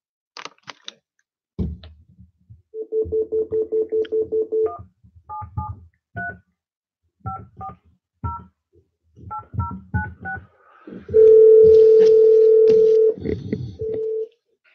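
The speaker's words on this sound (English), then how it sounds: "Brother Earl, I'll go ahead and give her a call" Touch-tone telephone keypad tones sound as a number is dialed to place a call, a quick burst of rapid beeps followed by spaced single tones and pairs, then a long steady ringback-style tone near the end, all clear and close with no talking.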